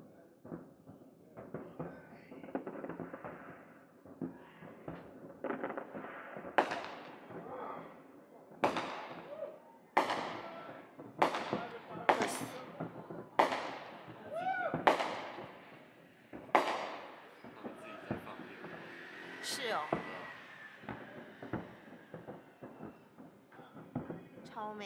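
Fireworks over Sydney Harbour at New Year pop and thud in a run of repeated distant bangs, with a person speaking over them.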